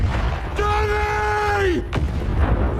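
A grenade blast in a film scene at a burning dock, rendered as a sustained booming roar with a descending tonal whine, followed by a second sharp burst, loud and without speech.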